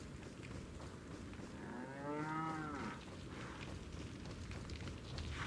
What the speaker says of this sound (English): Hey, Mr. Cow.